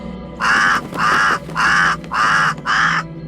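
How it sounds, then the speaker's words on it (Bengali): A crow caws loudly five times in a row, harsh evenly spaced calls close by with short gaps between them. "কাকটা এত চিৎকার করছে কেন?"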